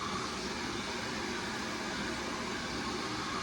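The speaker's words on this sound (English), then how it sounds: "Then I take the back side of the blow dryer to cool it down." A handheld hair blow dryer runs steadily and close while curling hair, a continuous even whoosh of airflow with no pauses.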